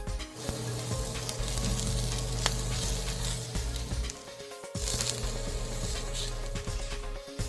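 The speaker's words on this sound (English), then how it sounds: "Stir and mix all these ingredients together with the chopped garlic" Carrot slices, bitter gourd and chopped garlic stir-fried over medium-high heat in a Cantonese-style dish, a continuous loud sizzle with clanking spatula strokes and a brief lull midway.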